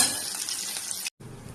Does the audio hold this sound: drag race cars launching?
no